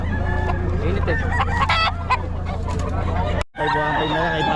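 Roosters and chickens at the Bocaue market cluck and crow in a loud, busy, overlapping chorus close by, with a low steady hum beneath and a brief dropout near the end.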